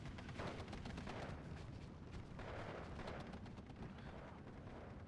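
Rumbling booms of 50 mm mortar fire in the World War II strategy game Steel Division 2 roll on continuously, a dense, distant-sounding barrage of blasts with no voices.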